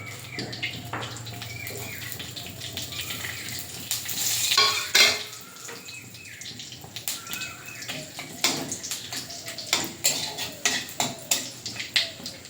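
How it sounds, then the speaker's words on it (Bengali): Panch phoron, dried chillies and bay leaves crackle in a little oil in a village kitchen, a busy sizzle that swells midway and then turns into quick repeated spatula scrapes and taps against the pot, with no talking. "অল্প তেল দিয়ে দেব ফোড়নে দিয়ে দেবো পাঁচ ফোড়ন শুকনো লঙ্কা তেজপাতা"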